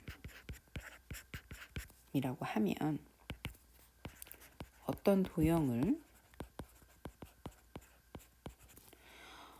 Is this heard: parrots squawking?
no